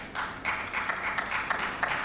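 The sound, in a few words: small audience applause during speech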